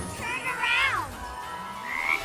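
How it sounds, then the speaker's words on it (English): Single frog croaking close by in a drawn-out, wavering call that rises and then falls, followed by a fainter second call, with no speech. "There's a frog behind us."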